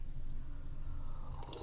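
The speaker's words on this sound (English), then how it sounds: "Sorry for that slurp." A single wet slurp from someone sipping a drink close to the microphone, soft and squishy, alone with no talk.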